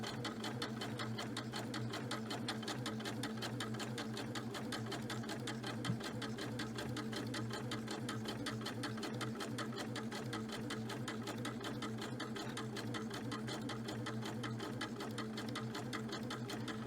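A sewing machine stitches smocking lines across gathered fabric, a steady, fast mechanical whir with even needle pulses running unbroken and close, at moderate volume.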